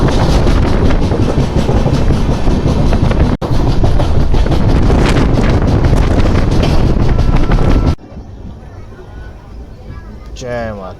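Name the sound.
Hemkunt Express train running on the rails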